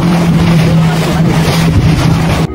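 Loud, steady motorboat engine drone with wind buffeting throughout, recorded aboard a small passenger launch underway on the water, cutting off abruptly at the end.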